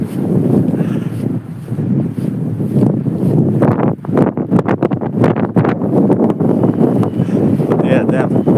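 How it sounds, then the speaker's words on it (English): Strong wind with blowing snow buffets the microphone in a steady, loud roar with gusty rustling throughout, in Rzeszów, Poland. "damn, it's super windy too, man"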